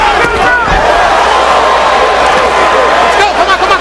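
A boxing crowd at the Zab Judah vs Cory Spinks fight roars steadily after a flashy punch combination, a dense, loud wall of cheering and hubbub that holds throughout with a commentator's voice mixed in.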